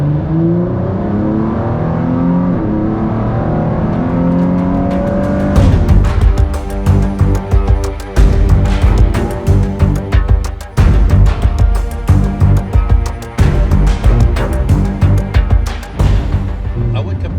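A Ford GT sports car engine roars loudly, rising in pitch as it accelerates, then revs hard with sharp bursts and gear changes, close and continuous.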